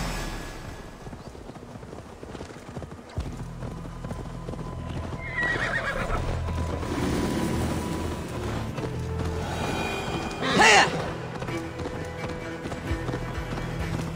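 Horse in the Assassin's Creed Valhalla video game, hooves clip-clopping steadily under a low rumble, then a loud, close whinny bursts out near the end before the hoofbeats carry on.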